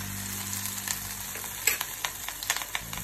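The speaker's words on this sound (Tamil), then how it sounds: "வெங்காய வடகம் தாளிக்கிறதுக்கு" Onion vadagam and two dried red chillies sizzle in hot oil for tempering a kuzhambu, a steady close hiss broken by sharp, scattered crackles and pops, with no talking.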